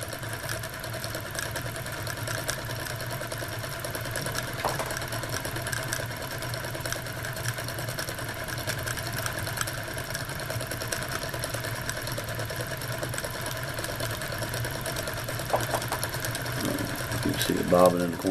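Guitar pickup bobbin held on a small screwdriver and spun while its wire unwinds, a steady mechanical whir that holds level and picks up slightly toward the end, with speech over it.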